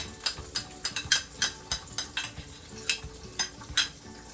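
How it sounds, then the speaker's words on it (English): Unsalted butter scraped out of its container with a utensil while cooking, heard as a quick series of short, dry scraping strokes at a brisk, uneven rhythm, close and moderately loud with no talking. "I'm just going to try and scrape out every little morsel of this butter that I can get, and this is unsalted butter"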